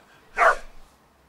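A single dog gives one short, sharp bark close by, standing alone against a quiet room.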